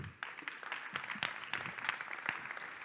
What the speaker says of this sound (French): on va accueillir Samuel Dassa de Wimet, s'il vous plaît, sur vos applaudissements.